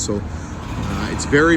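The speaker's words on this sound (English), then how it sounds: "You can hear the traffic going by." Monday morning road traffic going by in Amsterdam, a continuous low rumble of passing cars beneath a person talking, with a brief louder whoosh near the end.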